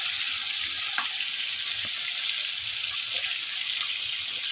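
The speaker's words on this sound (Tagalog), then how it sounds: "Yung kulo na." Sinigang fish soup with bantalaan fish boils in a covered home-kitchen pot, giving a steady, faint hiss and bubbling that runs evenly throughout with no talk.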